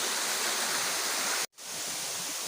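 Kabagawan Falls, a waterfall, gives a continuous broad rushing roar, steady and full, broken only by a brief cut of silence in the middle.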